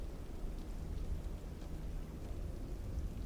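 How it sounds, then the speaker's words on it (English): Rain falls outside a parked Starship aircraft, a faint steady patter and hiss heard from inside, with no one speaking. "Sounds like rain."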